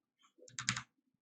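Computer keyboard keys are pressed close by during a Photoshop session: a faint tap, then a quick cluster of sharp clicks, in a short quiet burst.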